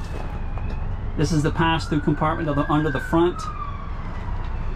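Someone speaks briefly close by while a siren wails faintly in the distance, its tone slowly rising and falling underneath.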